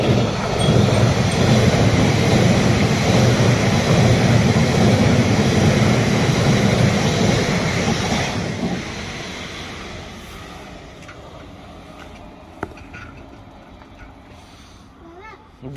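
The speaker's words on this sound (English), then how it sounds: "Train." A train rumbles past loud and close during a long cycling ride, its broad roar holding steady for about eight seconds before fading away, with faint voices underneath.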